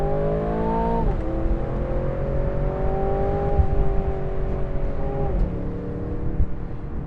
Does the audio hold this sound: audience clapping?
no